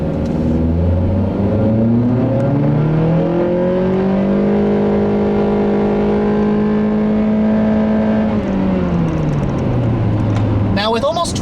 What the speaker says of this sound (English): when it's in full VTEC mode, you can really hear it going off, and it's a very pleasurable noise